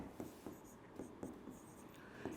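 Marker or chalk strokes on a board during a physics lesson come as quiet, close scratches in an irregular rhythm, about six short strokes in a couple of seconds.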